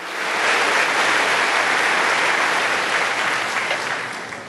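A church congregation bursts into loud, sustained applause, a dense wash of clapping that swells, holds steady and fades slightly at the end.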